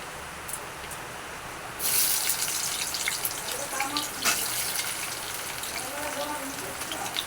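Rain falls outside during a goat-meat curry cook, a steady broadband hiss that grows noticeably heavier after a couple of seconds and continues evenly.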